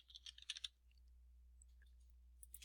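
Quick, light clicks of a computer keyboard as a search is typed, a short burst of soft keystrokes at the start and a few more near the end, close but faint, with no speech.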